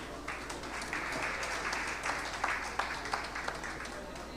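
Audience at an insurance brokers' mid-year workshop giving a round of applause, a sustained patter of many hands with a few sharper claps standing out, fairly distant, over a low electrical hum.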